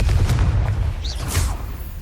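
Confringo blasting spell explosion in Hogwarts Legacy: low booming rumbles run throughout, with a sharp fiery whoosh and hiss bursting in midway against steady combat noise.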